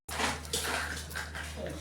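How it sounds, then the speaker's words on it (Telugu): Remaining cooking oil poured over mango pieces for avakaya pickle, a steady liquid pour with a low hum beneath, continuous and close throughout. "మిగిలిన నూనె కూడా దీంట్లో వేసేద్దాం."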